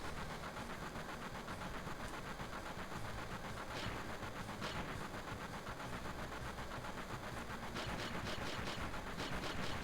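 A train in Final Fantasy VII runs with continuous rhythmic clattering and a low engine rumble, with a few sharp metallic clanks rising above the steady drone.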